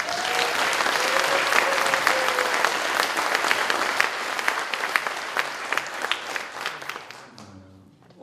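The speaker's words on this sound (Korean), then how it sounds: "큰 박수 한번 보내주십시오." Sustained, loud applause from a lecture audience at a welfare talk in Gwangju, steady and full for about eight seconds before tapering off as a voice comes in at the very end.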